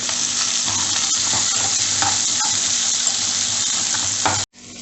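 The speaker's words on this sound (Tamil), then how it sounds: "கட் பண்ணி வச்சுருக்கிற சின்ன வெங்காயத்தையும் அதில் சேர்த்து கொஞ்சம் நல்லா ப்ரௌன் கலர் வர அளவுக்கு, கோல்டன் ப்ரௌன் வர அளவுக்கு வதக்கிக்கணும்" Small onions are sautéed in hot oil until golden brown for a Tamil vadacurry, with a dense, steady sizzle and light stirring that stops abruptly just before the end.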